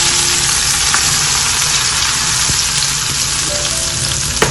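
Loud, steady sizzling and crackling of hot tempering oil poured over kadhi pakora curry, with a faint low hum underneath.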